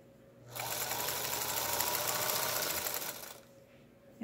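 A Singer Featherweight sewing machine stitching quilt binding, a steady rapid mechanical whir that runs loud and close for about three seconds before stopping.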